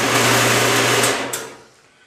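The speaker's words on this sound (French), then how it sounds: "je retourne à la scie pour couper une pièce" A saw cutting through a metal workpiece for a tapping block, a loud steady whirring grind with a low hum that runs for about a second before winding down and fading.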